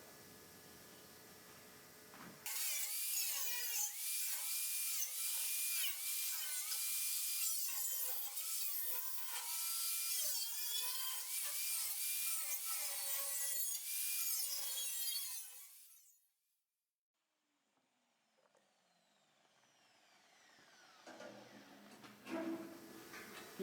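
Spot welds being cut off a Mk 1 Escort body panel in a workshop with a power tool, giving a loud, harsh, rasping grind that runs for about thirteen seconds before stopping abruptly, followed by faint clattering.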